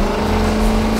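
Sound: car engine racing in a car vs motorbike racing video game

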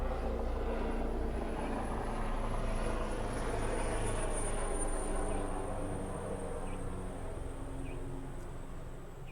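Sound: helicopter flying overhead

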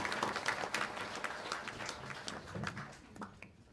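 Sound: audience applause

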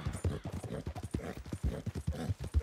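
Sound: horse galloping in video game Red Dead Redemption 2

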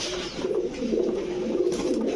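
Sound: pigeons cooing

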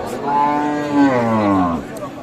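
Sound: Holstein Friesian cow mooing

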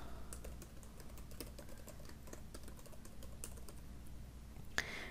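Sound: typing an email address on a computer keyboard

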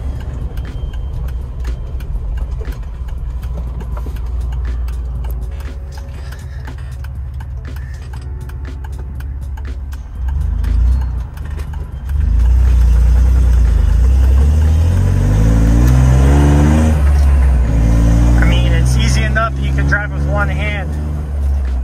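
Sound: car engine running and revving

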